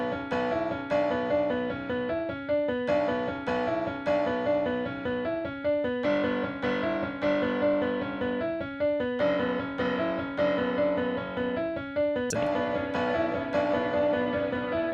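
Short synth chord stabs in a Detroit-style beat, repeating rhythmically with brief gaps between hits over a steady pulse, loud and upfront with no voices.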